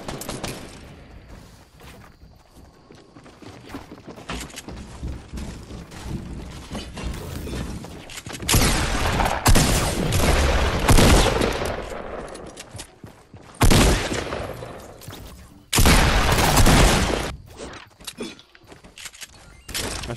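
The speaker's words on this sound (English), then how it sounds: "Actually, I'm never using a heavy shotgun." Heavy shotgun blasts in Fortnite, loud and irregular, with thick bursts near the middle and two sharp heavy bursts later, over a steady bed of game noise.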